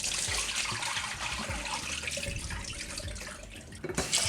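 Lentils are rubbed by hand and washed in running water in a sink, giving a continuous splashing, trickling wash with soft scrubbing swishes. A brief louder splash comes near the end.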